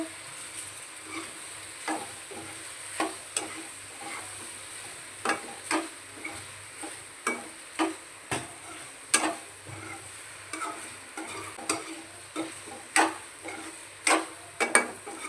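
Boiled macaroni is stirred into masala in a pan, with soft continuous sizzling and repeated scraping clicks of a spoon against the pan roughly every second, alone without talk.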